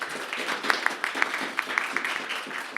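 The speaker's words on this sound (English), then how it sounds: "Let's give Cenk a round of applause" A college lecture audience applauds a visiting speaker, a moderate, steady wash of many hands with a few sharper individual claps standing out, heard at some distance in a hall.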